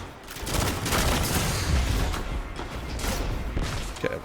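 Barrow-Dyad SMG fire in Destiny 2 PvP: rapid bursts of automatic gunfire crackle almost continuously, loud and close, with brief pauses between volleys and no talk over them.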